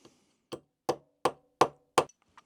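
Hammer taps driving a pin back into a cheap model plane casting: six sharp, evenly spaced metallic knocks about a third of a second apart, close and clear with no talk.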